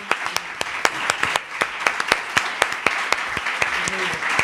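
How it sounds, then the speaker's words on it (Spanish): A crowd applauding with sharp, dense hand claps close by, with a voice and cheering mixed in beneath the clapping. "Un aplauso enorme para Kim Oramas por este maravilloso regalo."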